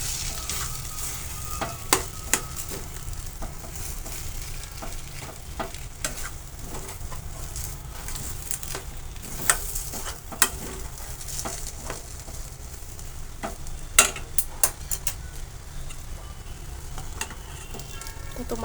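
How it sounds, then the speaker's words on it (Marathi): Sheera, a semolina sweet, being stirred in a pan: a continuous soft sizzle with scattered scraping clicks of the spoon against the pan, close and steady with no talking. "आपण आता अजून एकदा उघडून पाहणार आहोत, हलवून घेणार आहोत व्यवस्थित."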